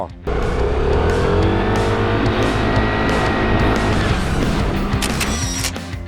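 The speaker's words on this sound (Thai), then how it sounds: "เปิดคันเร่งออกจากโค้งรถดันออกได้ดีไม่รอ" An Aprilia SR GT 200 scooter pulls out of a curve, its engine note rising in a steady accelerating whine with rushing wind and road noise, loud and close for several seconds.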